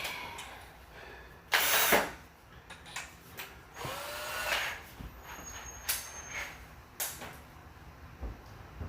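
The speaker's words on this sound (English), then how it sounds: "I'll drill a bigger hole" A power drill boring a bigger hole runs in several short, fairly quiet bursts with pauses between them, plus a few clicks and handling noises.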